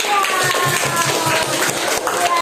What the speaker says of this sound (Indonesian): Tepuk tangan untuk kelompok batas.